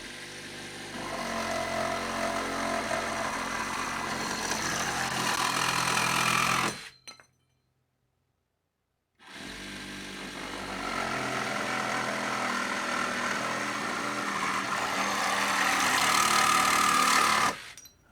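A compact reciprocating saw fitted with a new Diablo metal-cutting blade saws through 1 5/8 unistrut in two loud, steady buzzing runs separated by a brief silent pause.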